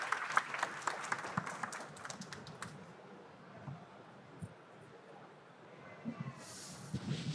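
Audience applause at a FEBRABAN TECH 2025 banking technology panel in Brazil, a steady patter of clapping that thins out after a few seconds, leaving a faint room murmur.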